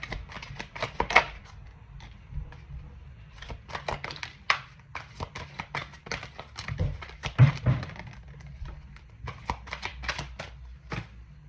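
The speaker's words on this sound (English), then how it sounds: "So bear with me while I shuffle these." Stiff, large tarot cards are shuffled in repeated bursts of riffling taps and soft thumps, close and fairly quiet, with brief pauses between passes.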